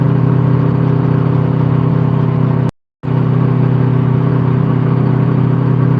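A pickup truck engine fitted with twin turbos and a supercharger runs in a loud, steady, close drone that briefly cuts out for a split second before resuming.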